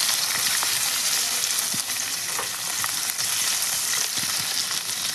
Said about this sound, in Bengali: পেঁয়াজটাকে আমি লাল লাল করে একটু ভেজে নেব।